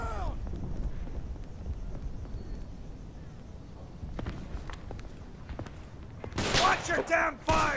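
Scattered WWI rifle shots crack in the Day of Infamy Screaming Steel mod battle at Valenciennes, a few sharp reports over footstep-like rustle, ending in a loud shouted burst of voices.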